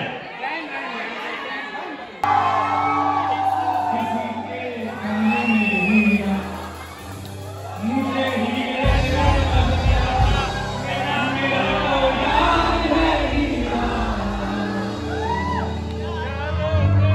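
Crowd noise at a college alumni meet, with chatter, shouts and whoops swelling into continuous cheering that holds steady throughout, while voices call out over the loud gathering.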